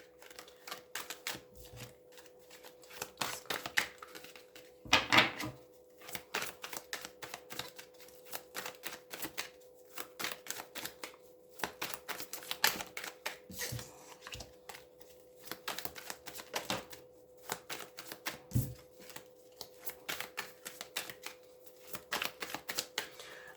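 Tarot oracle cards being shuffled for a cross-spread reading, a steady run of crisp riffling and slapping card sounds close to the microphone with no voice over it.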